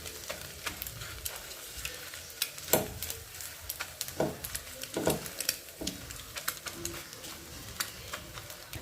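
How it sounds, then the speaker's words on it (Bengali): An egg frying in a pan gives a steady low sizzle, broken by occasional sharp scraping and tapping as a utensil stirs and lifts it. "তো ডিমটাকে ভেজে নামিয়ে নিলাম"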